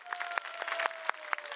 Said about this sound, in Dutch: Dus daar wil ik eigenlijk alvast een applausje voor vragen.